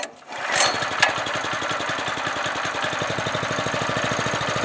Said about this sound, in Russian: Двигатель завелся